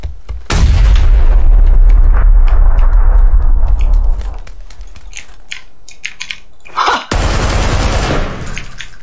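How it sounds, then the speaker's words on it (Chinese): A grenade goes off in a video game right beside the player, who blows himself up: a sudden loud close blast with a long rumbling tail that fades, followed by scattered clicks and a second burst of noise. "他雷没丢出去，把自己给炸了"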